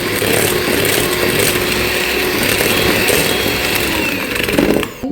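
An electric mixer whipping egg whites with sugar whirs with a loud, steady motor whine that holds for several seconds before cutting off at the end.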